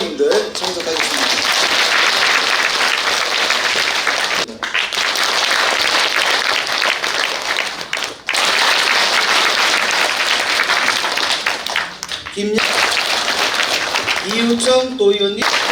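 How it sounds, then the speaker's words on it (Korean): A crowd of party members claps for an arriving lawmaker at a party education meeting: sustained, loud applause that drops out briefly twice, with an announcer's voice at the start and end. "큰 박수 부탁드립니다."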